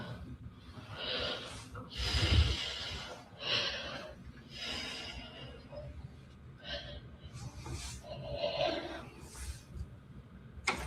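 A woman breathes heavily, with loud gasping and snorting breaths repeating irregularly throughout, close up and dominating the sound.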